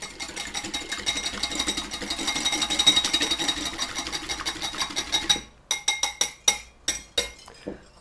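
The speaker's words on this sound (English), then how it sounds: "just take a whisk and give it a good whisking" Whisk beating a cracked egg in a bowl, a rapid steady clinking against the sides for about five seconds, then a handful of slower separate taps.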